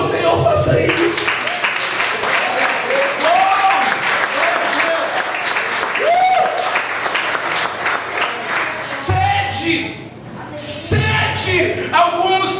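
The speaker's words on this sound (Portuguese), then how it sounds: "Você quer aplaudir ao Senhor? Faça isso." A church audience applauding at length, dense sustained clapping from a crowd filling the room, with voices and cheers mixed in and a brief dip before it swells again.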